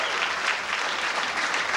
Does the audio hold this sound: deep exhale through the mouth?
no